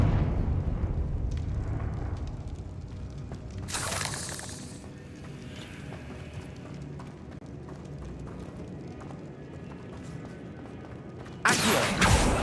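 A Confringo fire spell explodes in Hogwarts Legacy, heard as two sharp loud blasts, one early and one near the end, over busy game combat noise and ambient rumble.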